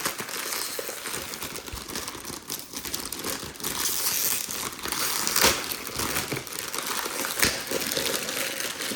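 Hard, thick, glossy plastic wrapping on a Withings BodyScan 2 smart scale is crinkled and crushed near the mic, a continuous dense crackle with a few louder crunches during the unboxing.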